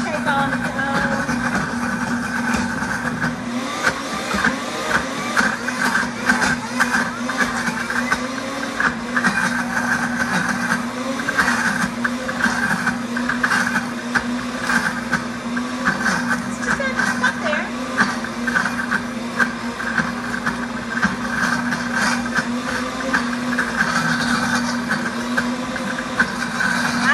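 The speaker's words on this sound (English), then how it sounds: "As it's, grinding up our nuts, we're gonna start getting nut oils in a few minutes." A blender grinding nuts into peanut butter, a loud continuous motor whir with a steady droning hum and rattling vibration that runs without a break throughout, with talk faintly beneath it.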